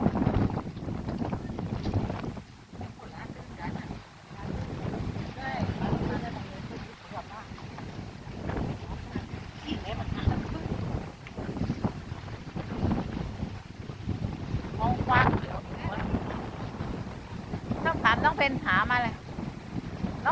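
Strong wind buffets the microphone in a continuous rough roar at sea, with a boat engine or water noise underneath and occasional voices.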